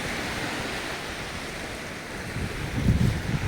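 Sea waves at a beach during high tide wash in as a broad steady rush with wind noise on the microphone, swelling into a louder surge near the end, with no talk.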